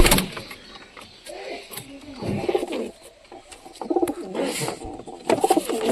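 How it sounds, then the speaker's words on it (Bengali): A Giribaz pigeon coos in soft, repeated throaty bursts close by, with small rustles and knocks between calls and no talk. "তো এই যে গিরিবাস পায়রিটা"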